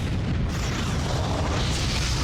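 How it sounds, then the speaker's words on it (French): Nitroglycerine explosion in the 2000 mountaineering film Vertical Limit, a loud sustained blast with a heavy low roar filling the whole stretch, no talking. "C'est ce qu'on appelle une explosion."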